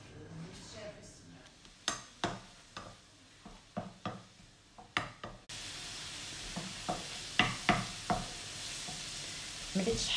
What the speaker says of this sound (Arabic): Je vais faire revenir l'oignon.